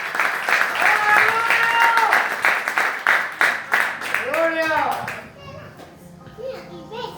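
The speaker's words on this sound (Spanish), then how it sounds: "Fuerte el aplauso para el Señor" A church congregation claps steadily and loudly for several seconds, with children's voices and cheering mixed in, before the applause fades under voices.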